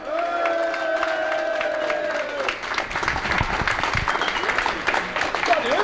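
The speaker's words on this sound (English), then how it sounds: "can we please have a massive round of applause for the winner of Goliath 2023 is Mr. Alex Todd." A large crowd applauds and cheers loudly for the winner of the Goliath 2023 event, steady dense clapping with whoops rising over a voice speaking at the start.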